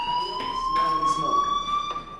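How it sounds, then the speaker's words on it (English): A fire alarm rings steadily in the video game Life is Strange, a loud sustained electronic tone with harmonics holding throughout, with faint background game sounds underneath. "Hey, do you hear that fire alarm? That means you should be outside."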